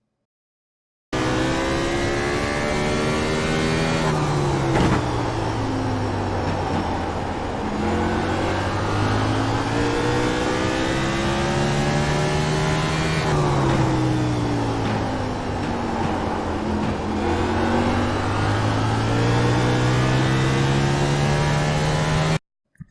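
Race car engine in iRacing on a lap of Martinsville, droning steadily close by, falling under braking into the turns and climbing again on each straight in two long repeating cycles, with faint tire noise.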